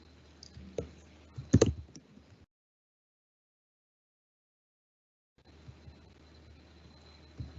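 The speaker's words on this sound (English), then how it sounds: "I'm clicking on re-audit." A few sharp computer mouse clicks while working in audit software, close and fairly quiet in a still room, with a couple of isolated clicks early, then a silent gap and low background noise.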